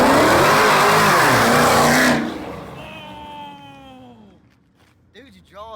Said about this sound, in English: When I do a burnout, it will.